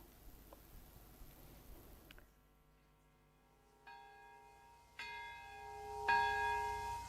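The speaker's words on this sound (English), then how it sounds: "Twin cathedral bells rang in unison Saturday in Japan's Nagasaki for the first time since the atomic bombing of the city 80 years ago" Twin cathedral bells in Nagasaki ring together, clear resonant strikes entering one after another and building in loudness, sustained tones overlapping and ringing out alone.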